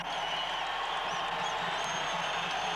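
A college basketball arena crowd at a New Mexico Lobos versus Utah Utes men's game roars in a steady, dense wash of cheering and applause, loud and continuous throughout.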